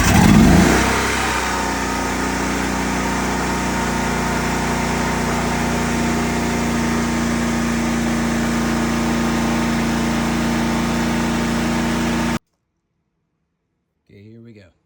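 A sewer jetter pushes water through an American Jetter nozzle during a flow test, starting with a loud surge, then settling into a steady engine drone and hiss. The sound cuts to silence near the end before a brief voice.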